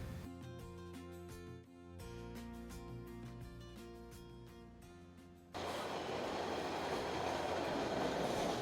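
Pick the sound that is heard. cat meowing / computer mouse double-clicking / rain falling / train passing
train passing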